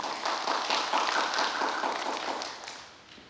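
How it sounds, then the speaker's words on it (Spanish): Strong applause from an audience at a formal ceremony of a lawyers' bar association, a dense continuous clatter of many hands that stays loud throughout and fades slightly at the end. "Recibimos con fuertes aplausos."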